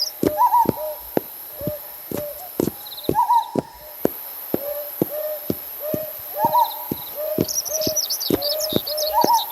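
Small bird sound effects for a picture book: repeated sharp chirps and tweets in a quick irregular rhythm, crisp and close, alongside knocking clip-clop beats and a few brief hoot-like calls.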